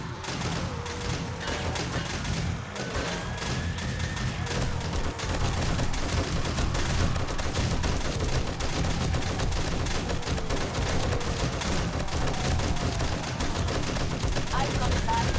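Base guns in 7 Days to Die Alpha 20 fire continuous rapid automatic gunfire at attacking enemies, a steady loud rattle of shots, with someone talking over the din.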